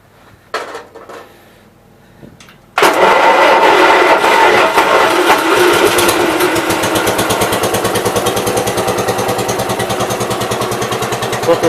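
A small petrol engine is pulled over with a few clunks, then catches and runs loud and steady with a fast, even chugging beat, choke on after a stall.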